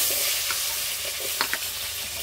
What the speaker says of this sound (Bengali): মাছ ভাজার তেলের মধ্যে সজনে ডাঁটা আলু ভেজে নেব।